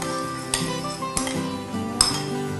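A spoon stirs curd, orange juice and lemon in a bowl, with soft scraping and three sharp clinks against the bowl, close and without talk.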